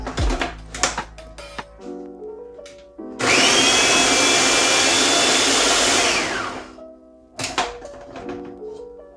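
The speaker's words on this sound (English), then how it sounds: "And we'll just get that blended up." A blender whirs loudly and steadily for about three seconds, breaking down peaches with nutmeg and cinnamon for a cobbler, framed by clinks and kitchen clatter before and after.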